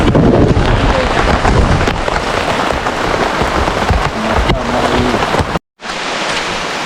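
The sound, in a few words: rain falling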